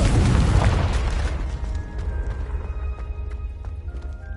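A Confringo spell explosion in the Hogwarts Legacy video game bursts loud and booming at the start, then a rumbling tail decays under steady game ambience with faint chiming tones.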